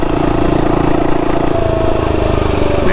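A small Amazon mini bike engine drones loud and close at full throttle, a steady, buzzing, unbroken roar while the bike rides at about 20 miles an hour.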